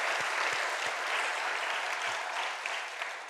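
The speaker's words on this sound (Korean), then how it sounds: "오늘 이 말씀을 우리에게 이 복된 말씀을 주시는 하나님께 영광의 박수 한번 부탁합니다." A church congregation applauds during a Korean sermon, a broad steady wash of clapping with a few low thumps near the start and no voice over it.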